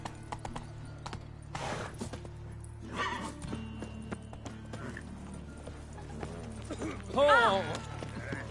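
Roach the horse galloping in The Witcher 3, hooves clip-clopping steadily at moderate distance, with a brief whinny and other game sounds near the end.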